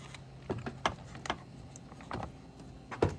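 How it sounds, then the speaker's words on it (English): A 10 mm wrench tightens the negative battery cable nut on a 2014-2018 Silverado or Sierra, making several quick metallic ratcheting clicks in short bursts at close range. "go ahead and re-secure this negative cable on our battery."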